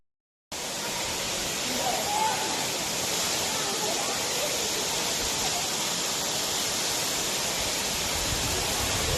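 Waterfall at Consosep Falls on Mt. Isarog, a dense, steady roar of falling water that starts abruptly and holds loud and unbroken throughout, with no voices rising above it.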